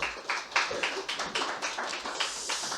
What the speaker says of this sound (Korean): 우리 함께 박수 치도록 하죠.